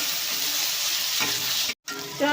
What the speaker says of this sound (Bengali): পেঁয়াজটা একটু ভাজতে হবে।